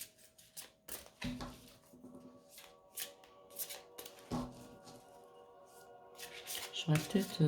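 Oracle cards shuffled and cut by hand in bursts of crisp riffling and soft slaps, close and clear, with someone speaking French between the shuffles.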